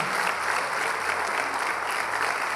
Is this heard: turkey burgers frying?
no